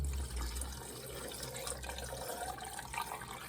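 Cold boiled water poured into a jar of pickles, a steady close trickle and splash running without a break under a low background hum.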